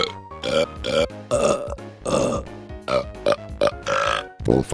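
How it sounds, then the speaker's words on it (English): Cartoon characters trading long, exaggerated, pitched burps in a burping contest: a rapid series of loud, close, gurgling belches in several voices, some drawn out and some clipped, back to back with barely any pause. "Wanna have a burping contest, boy?"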